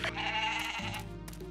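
A goat bleats in the farming video game Story of Seasons: Pioneers of Olive Town, a clear, sustained wavering cry over game music, alone without talk.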